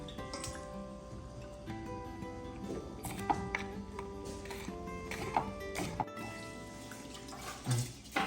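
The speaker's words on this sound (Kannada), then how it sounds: "ಇದು ಅಕ್ಕಿ ತೊಳಿತಾರಲ್ಲ ನೀರು" Water runs while rice is washed, a faint steady flow with small splashes and clinks in a kitchen.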